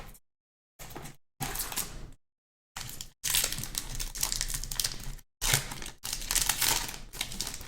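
A Magic: The Gathering Khans of Tarkir booster pack's foil wrapper crinkles and tears in several bursts separated by short silences, close and loud, with no talk.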